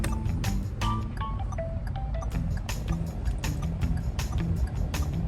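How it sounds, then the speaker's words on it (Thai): Steady, sharp clicking ticks from a 2022 Toyota Yaris Ativ turn signal indicator, set to its third sound option, repeating over a loud low engine rumble. "ประเภทเสียงไฟเลี้ยวนะฮะ"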